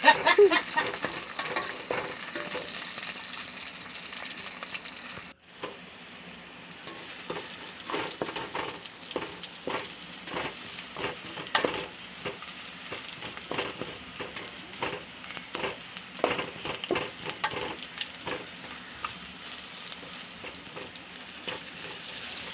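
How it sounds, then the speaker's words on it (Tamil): Onions sautéing in a pan for a dry fish curry give a steady, close sizzle and crackle, with a brief dip near five seconds and scattered stirring scrapes throughout. "நல்லா வதக்குங்க."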